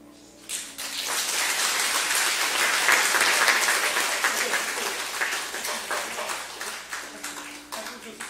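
A church congregation applauds together, a dense, sustained wash of clapping that swells in after a brief pause and holds steady at close range for several seconds before thinning slightly toward the end.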